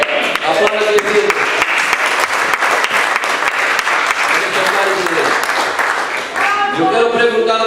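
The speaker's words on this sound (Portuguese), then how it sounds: "aplauda a igreja" A church congregation applauding during a sermon, loud continuous dense clapping from a large crowd with voices mixed in throughout.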